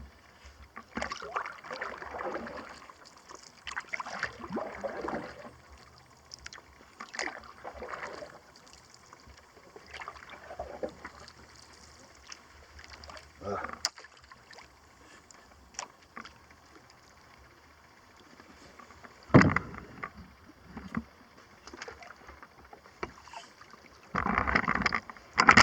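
Paddle strokes from a canoe or kayak on Clear Lake, a series of soft watery splashes and drips at an uneven pace, fairly close and gentle, with quieter stretches between strokes and a couple of louder splashes near the end.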